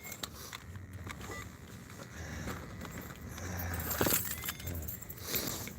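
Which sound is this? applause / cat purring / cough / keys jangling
keys jangling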